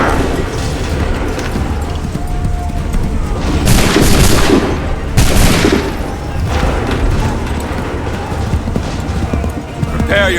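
Musket volleys in Assassin's Creed 3 ring out as two sharp, loud booms amid battlefield clatter and hoofbeats, with voices calling out over the din.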